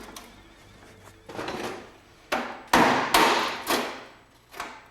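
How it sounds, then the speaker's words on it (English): Several sharp hammer blows on a chisel drive into a pop rivet behind a car body panel of a Lotus, a slow uneven series of loud metallic strikes, close, with no talk. "I'm going to have to go in with the chisel and see if I can break it."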